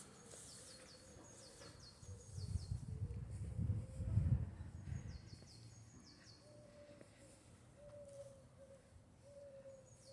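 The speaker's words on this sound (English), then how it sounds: "the chirping of the birds." Faint birds chirp in short, sparse bursts in a cherry blossom park at evening, heard at a distance over quiet outdoor ambience with a brief low rumble in the middle.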